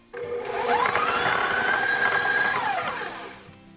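An electric mixer beats cream cheese and sugar for peanut butter cheesecake, whirring up to a steady high whine for a few seconds, then winding down and stopping, close by with no talk.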